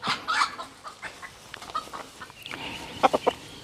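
A Japanese Phoenix rooster and laying hen cluck in a close series of short, uneven calls, ending with a few louder, sharper clucks.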